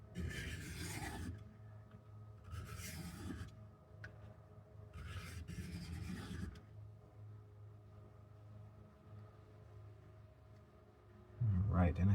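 An Emerson CQC-7 knife edge is sharpened in three distinct rasping strokes, each about a second long, fairly quiet and close, followed by a low hum and a brief knock at the end.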